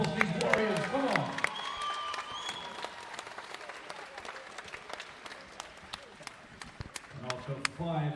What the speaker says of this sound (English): Let's give a huge round of applause to these warriors.